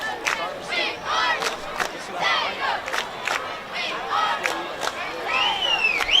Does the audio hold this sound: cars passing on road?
no